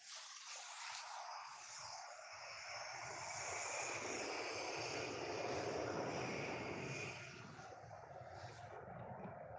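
An airplane takes off at Manchester Airport, its engine roar building to a sustained, fairly distant rumble with a high whine above, then fading slightly toward the end, with no voices.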